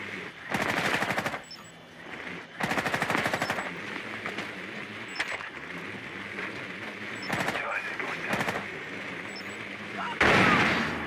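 Rapid automatic gunfire bursts from the video game Rainbow Six Siege, a long volley near the start and another around three seconds, with scattered single shots and a final loud burst, while players talk throughout.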